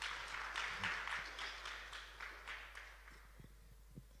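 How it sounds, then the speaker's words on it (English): Audience applause for a speaker at a youth sustainability and energy talk, a broad wash of clapping that is fairly quiet and thins out toward the end, with a few scattered low thumps. "I think a round of applause for this great innovator."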